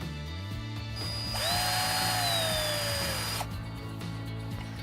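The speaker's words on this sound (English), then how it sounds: "So simply drive the screw in until it's brought up to a firm connection" A cordless power drill drives a screw into a gable bracket, its motor whining up and then slowing as the screw seats, loud and close, with no talk.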